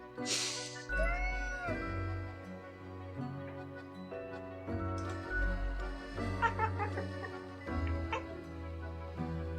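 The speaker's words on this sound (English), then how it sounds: "The cat is trying to talk." Cat meowing in the video game Death & Taxes, a few short mews over a steady bed of tonal game music, with no talking.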